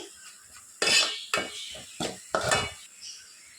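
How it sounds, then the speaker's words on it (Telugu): Biryani masala for egg biryani being stirred in a pan on a medium flame: a series of distinct metal spoon scrapes and clinks against the pan in an uneven rhythm, close and clear over faint sizzling. "సో మీడియం ఫ్లేమ్లో పెట్టేసుకొని బాగా మిక్స్ చేసుకోవాలి."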